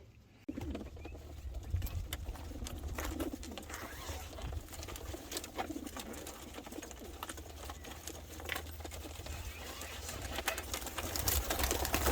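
Racing pigeons coo softly in a basket amid rustling and shuffling close by, a steady low murmur of birds with scattered scratchy noises.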